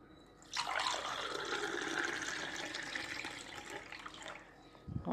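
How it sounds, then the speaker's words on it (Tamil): Buttermilk being poured into a tumbler: a steady, close liquid stream that starts abruptly, runs for about four seconds with a bright splashing rush, then stops, with no talking. "மோர் ஊற்றிடுவோமா டம்ளரில்."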